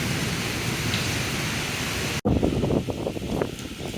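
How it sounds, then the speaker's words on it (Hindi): Heavy nighttime rain with cold wind, a dense, steady roar of rainfall and gusting air filling the whole stretch, broken by a momentary dropout, then continuing with rougher, patterning splashes. "खौफनाक बारिश है, लेकिन हवा बहुत ठंडी है।"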